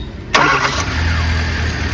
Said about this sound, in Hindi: अपने करते गाड़ी चालू,